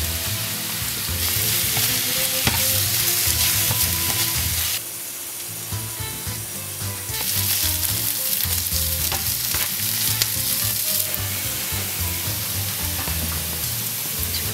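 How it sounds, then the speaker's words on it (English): Onions brown in a frying pan with a loud, dense, continuous sizzle, close by, that dips briefly partway through and then resumes at full strength. "While they're browning, just place a pinch of salt on your onions."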